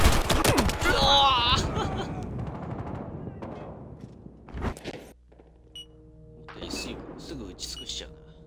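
Gunfire in the video game Battlefield Hardline: a burst of rapid shots and impacts under a voice, then sparser single bangs and game effects trailing off.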